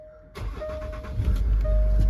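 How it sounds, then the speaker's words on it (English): A Range Rover Sport 3.0 TD V6 Autobiography diesel cranks briefly and fires up, settling into a steady, loud idle heard up close with no talking. "Just start the car up."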